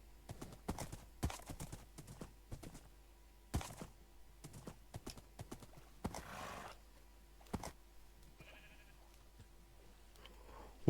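Horse hooves clip-clop in a blocky sandbox video game as the horse is urged toward water, coming in quick irregular bursts of sharp taps with short gaps, moderately close, and a brief soft animal-like bleat near the end.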